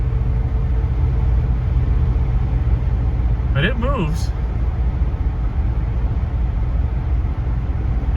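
A 1973 Ford LTD Brougham's 460 V8 on factory-style dual exhausts rumbles steadily and muffled while driving, a continuous low drone throughout, with a brief spoken remark partway through.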